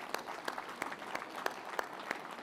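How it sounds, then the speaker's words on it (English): Moderate applause rolls through an audience at a car and bike awards show, with a few sharp, evenly spaced claps standing out above the steady patter; fairly quiet overall. "Please give yourselves a huge round of applause."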